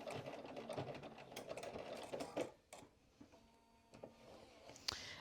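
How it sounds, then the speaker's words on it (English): A sewing machine backstitches a seam on a Hartwell vest, a quiet run of rapid stitching that stops, then a pause with faint light clicks and handling noises. "And then I'm going to back stitch."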